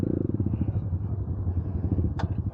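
A motorcycle engine revving on a dirt trail in a racing video game, with a low throbbing growl that pulses unevenly, close and fairly loud throughout, and a short bright burst near the end.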